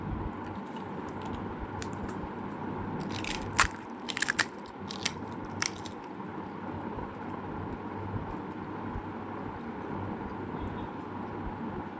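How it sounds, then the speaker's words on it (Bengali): Dry fuchka being bitten and chewed up close, a few sharp crunches clustered in the middle over a steady low background hiss. "আমি শুকনো ফুচকাই বেশি খাই।"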